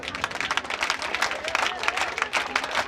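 NCC cadets and an audience applaud at a theatre festival event, a sustained, dense burst of many hands clapping that stays loud throughout, with a little talk underneath.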